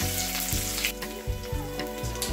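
Panch phoron spices frying in hot oil for a spinach curry, a steady close sizzle and crackle with periodic stirring scrapes of a utensil, fairly quiet and without voices.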